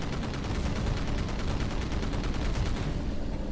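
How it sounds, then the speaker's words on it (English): Aircraft strafing gunfire in the Battlestations: Pacific video game, a dense, loud, continuous stream of rapid machine-gun shots that stays unbroken throughout. "so you can practice strafing almost as well, like so."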